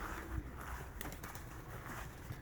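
Soft, low pigeon cooing drifts in over a steady outdoor background hum, fairly faint and a little distant.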